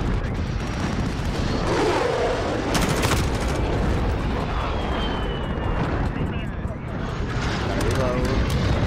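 Gunfire in Call of Duty: Modern Warfare multiplayer, with an M4 rifle, a dense loud mix of shots and game effects running throughout, layered under a player's talk.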